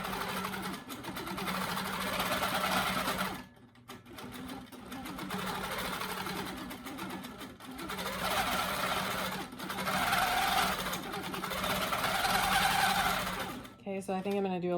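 A longarm quilting machine stitches a free-motion fill pattern, a steady rapid mechanical hum and clatter running almost continuously with brief pauses, close and prominent with a voice faintly underneath.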